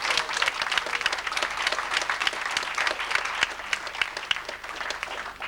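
Audience applause at a Prince's Trust presentation at Old Trafford: a steady, full burst of clapping from a crowd, continuous throughout and fairly loud.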